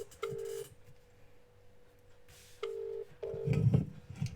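Telephone ringing on a call, two long steady ring tones with a gap between them, the second followed by a burst of clatter and low noise.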